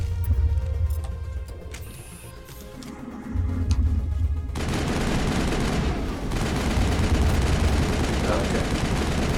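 Pistol fire in the video game Mass Effect. A quieter stretch of game ambience gives way to a sustained, noisy barrage of gunfire and combat clatter that fills the second half loudly.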